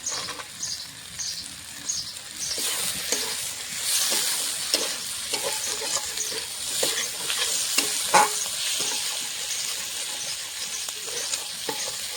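Mixed vegetables with green peas stir-fry in a pan for fried rice with onion greens, a steady close sizzle punctuated by frequent clattering scrapes of a spatula tossing the food.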